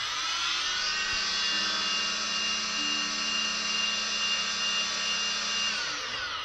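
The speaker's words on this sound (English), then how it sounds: "Just quickly check what the motors are spinning at when I've got it armed." Quadcopter drone motors on a Nighthawk 280 Pro spinning at idle while armed, a steady high-pitched whine with a low hum underneath, close and continuous with no talking.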